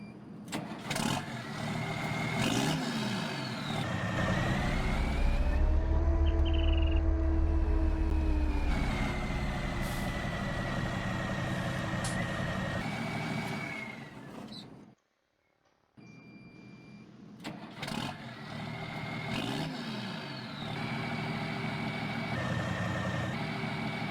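A Fendt Vario T900 tractor engine in Farming Simulator 19 runs loudly and steadily, revving up and down with a rising whine. It cuts out briefly near the end, then restarts and keeps running.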